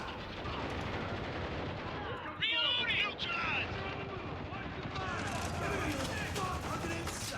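Heavy chain gun fire in the video game Spec Ops: The Line, a dense, continuous burst with game noise and voices over it.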